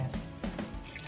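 Whole milk, about two cups, pours into a cooking pot for coconut dulce, a short wet splashing trickle with no talk.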